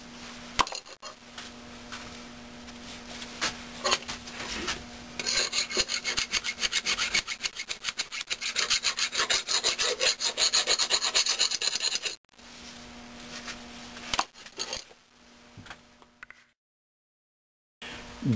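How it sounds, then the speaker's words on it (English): Fine-grit sandpaper rubs back and forth on metal parts of a Maytag Model 72 washer in a steady, rasping rhythm. The strokes are close and continuous and pause briefly partway through, with a short silence near the end. "I think I'll go for a little finer grit."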